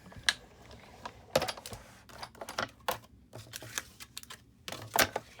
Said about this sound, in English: grab my Big Shot real quick and cut out the cute little star